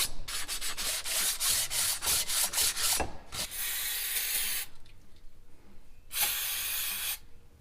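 Sanding a turbo flange by hand with 220-grit sandpaper, the part held lightly in a vise: rapid rhythmic rasping strokes, loud and close, then a longer continuous scrub and a final burst after a short pause.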